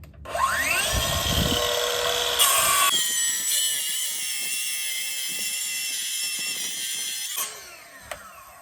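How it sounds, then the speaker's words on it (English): A power saw spins up with a rising whine, then cuts a 2 centimetre wooden strip in a loud, steady, close drone before winding down and stopping, followed by a faint click. "I'm going to cut a 2 centimeter strip so that it's kind of square underneath"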